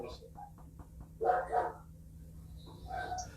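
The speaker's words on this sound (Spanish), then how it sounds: "Buenas tardes al perrito también que está ladrando." A small dog yaps in short, sharp bursts, a little distant, mixed with a faint background hum and some quiet murmuring.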